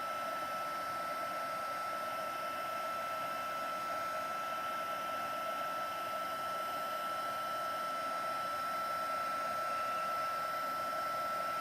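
Heat gun blowing steadily from a short distance to melt embossing powder, a constant even whooshing hum with a faint high whine, heard alone.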